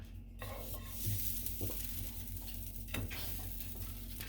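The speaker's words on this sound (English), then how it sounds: "Now go ahead and take your patties and put them back in your pan." Patties sizzling steadily in a frying pan as they go back in, with a continuous close crackle and a few soft clunks and scrapes of pan and utensil.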